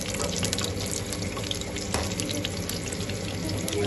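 Eggs frying in hot ghee in a pan for egg fried rice, a steady loud sizzle and crackle running unbroken throughout with no talk.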